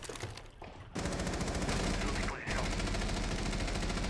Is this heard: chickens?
no